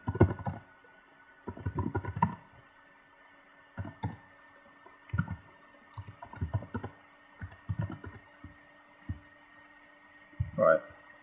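Bursts of computer keyboard typing come in short clustered runs with pauses between, close and moderately loud, while a password and store name are entered.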